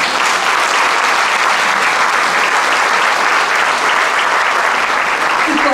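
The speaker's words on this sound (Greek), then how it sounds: "Το θερμό σας χειροκρότημα." Loud, dense applause from a concert audience greeting a choir accompanied by a folk orchestra, many hands clapping in a steady unbroken roar from start to finish.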